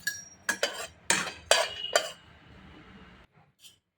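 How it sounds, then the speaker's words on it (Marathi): Peanuts dry-roasting in a hot pan after green chillies, with loud rattling clinks and scrapes as they are stirred in bursts, then quieter shuffling. "आता आपण शेंगदाणे भाजू"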